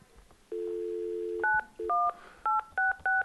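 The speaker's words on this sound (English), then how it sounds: "We're going to dial the phone." Telephone tones from dialing into a meeting line: a long dial tone first, then a quick series of short keypad beeps, clear and close with no talk over them.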